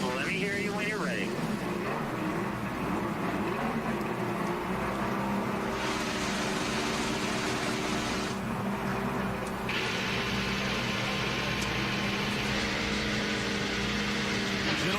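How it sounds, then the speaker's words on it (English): IndyCar race engines at the 2012 Grand Prix of Baltimore start and rev together in a loud, dense, continuous roar that rises and surges in waves as the cars fire up. "Gentlemen, start your engines."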